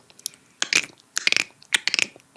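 A person imitates dolphin clicks with the mouth, three quick bursts of sharp, crackling clicks separated by short pauses, close and fairly loud.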